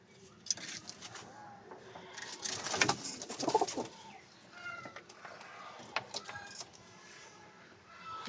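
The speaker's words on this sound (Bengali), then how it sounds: "আজকে দেখুন কতগুলো পায়রা আছে" Pigeons coo softly in a loft, several low murmuring calls overlapping with scattered flutters and shuffling nearby.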